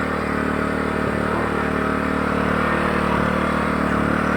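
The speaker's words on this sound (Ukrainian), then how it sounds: "Генератор працює, горить зелена лампочка, генератор видає ток." A NIG GNR 3050 inverter generator running steadily: a loud, close, constant engine drone with a buzzy mechanical rattle and no change in pace throughout.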